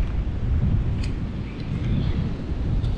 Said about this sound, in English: Oh, it is windy today.